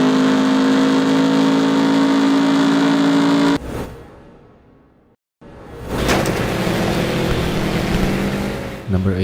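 A racing car engine in TOCA 3 drones loudly and steadily with a sustained tone, drops away almost to silence for a moment, then returns at full roar.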